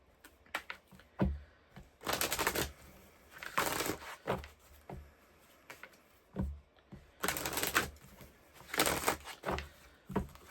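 Tarot deck being riffled and shuffled during a Pisces new moon reading, with repeated broadband bursts of card flutter around two and nine seconds and softer taps and slides between them, close and fairly loud, without talk.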